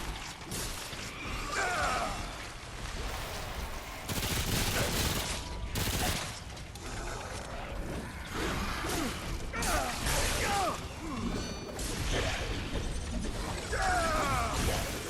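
Seeker explosions in the video game Remnant: repeated bursts and crashing impacts with whooshes and mechanical clatter, fairly dense and continuous across the stretch of gameplay.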